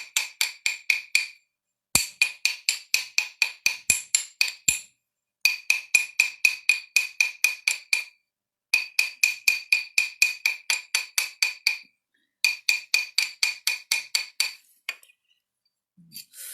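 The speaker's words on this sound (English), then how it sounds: "I'm going to use the ball peen part of the hammer here to give it a little bit of texture" Ball peen hammer tapping a metal earring to texture it, in quick rhythmic bursts of close, crisp metallic strikes separated by short pauses, with no voices.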